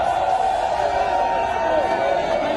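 A large crowd at a rally roars in a steady, dense wash of voices, loud and unbroken throughout with no distinct individual words.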